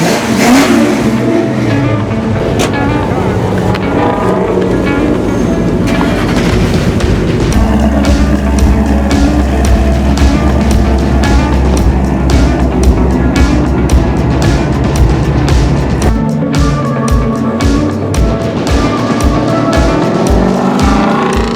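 A Ford Mustang drives on the road and accelerates hard, the engine revving loudly and close with a rising roar, a shift in tone partway through, and repeated surges toward the end.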